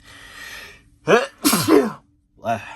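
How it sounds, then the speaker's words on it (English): A single sharp sneeze bursts out after a quick intake of breath, followed by a short vocal sound. "Uh-oh, I have a sneeze coming on."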